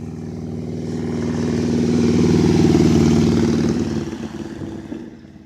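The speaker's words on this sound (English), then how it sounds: "Motorcycle." A motorcycle passing near a marina with sailboats, its engine rumble swelling steadily to a loud close pass before fading away, with no talking.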